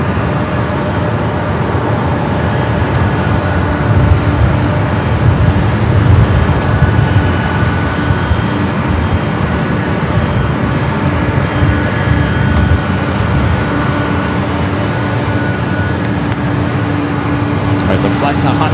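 A Delta airliner bound for Honolulu takes off from runway 24 left at LAX, its engines a broad, steady roar heard from a distance.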